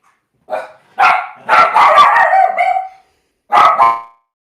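A dog barks in a room: a short yip, then a long drawn-out run of excited barks and whines, and after a pause two more close, loud barks.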